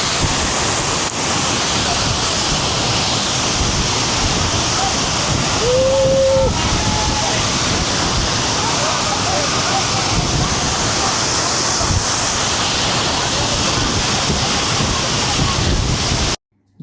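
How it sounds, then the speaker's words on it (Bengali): The strong current of Suptadhara waterfall in Sitakunda rushes in a loud, continuous roar of falling and churning water, with some wind buffeting the microphone, steady for the whole stretch. "বন্ধুরা কি পরিমাণ স্রোত যাচ্ছে এখানে"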